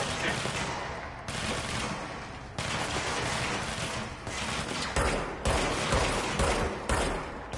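Rapid bursts of automatic gunfire in the video game Control crackle loudly and repeatedly in dense volleys, with short gaps between strings of shots and no talk.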